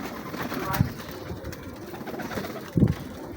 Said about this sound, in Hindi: ये प्रिंस कमगर और चोई साहब वाले कबूतरों के बच्चे हैं